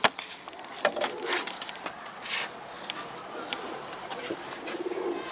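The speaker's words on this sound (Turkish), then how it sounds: "yabani kuş" A pigeon coos softly among rustling and light knocking sounds, with muffled background voices nearby.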